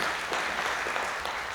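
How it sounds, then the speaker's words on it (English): An audience at a candidate forum claps steadily, a dense crowd of hands filling a brief, loud burst with no voices over it. "So everybody give Amber a round of applause."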